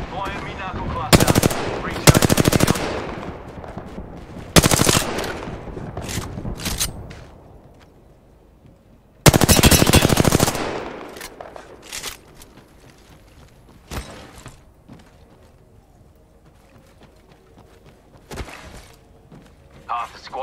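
Gunfire in the Apex Legends video game, with loud bursts of automatic fire and single shots spread through the clip, some long and some short, as a player speaks in places.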